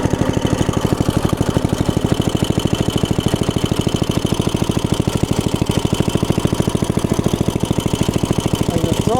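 A small engine runs on choke, idling with a steady, fast, knocking putter that stays loud and even throughout, with no voices.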